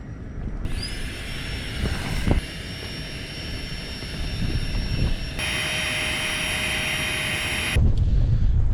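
A sleeping mat is inflated inside a Hilleberg Soulo tent on cold, breezy Brown Clee Hill. A loud, steady whooshing drone with a thin whine runs continuously and swells slightly toward the end.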